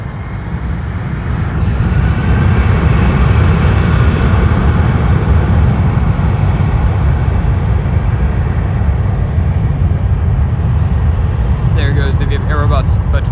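A Lufthansa heavy jet at Los Angeles International Airport produces a loud, sustained roar that swells and then holds steady, with deep rumbling and a high whine, and faint chatter near the end.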